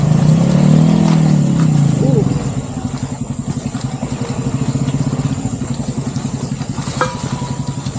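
A motorcycle engine at a campsite in Cavinti, Laguna, loud and steady for about two seconds, then settling into a rhythmic putter as it idles or pulls away, with people talking nearby.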